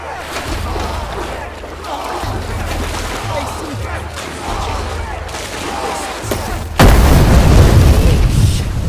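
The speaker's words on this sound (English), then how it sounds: "Flare gun. Time to use it, I guess." A flare gun fires in a video game, a sudden loud burst near the end that follows a stretch of ambient game sound with speech under it.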